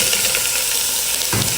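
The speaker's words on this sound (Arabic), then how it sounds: "في البداية بحمس قرع وفلفل رومي وفلفل حار مع بصل مع زيت أو زبدة" Pumpkin, bell pepper, hot chili and onion sautéing in oil or butter give off a steady, close broadband sizzle and hiss, with a brief stirring swell near the end.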